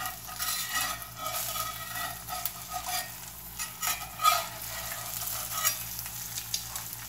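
Eggs fry in a hot cast iron pan, a steady close sizzle with soft crackles and small pops throughout, no talking.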